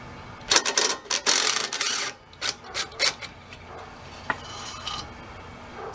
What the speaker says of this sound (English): I don't see any other way to get in there to get that bolt out of there